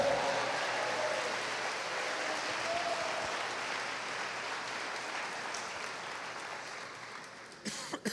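A church congregation applauds steadily, a dense sustained roar of clapping that slowly thins out, with a few coughs and scattered louder claps at the end.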